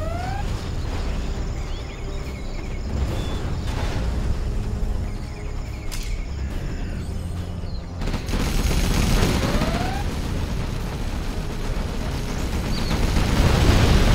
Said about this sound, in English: do a little bit more bombing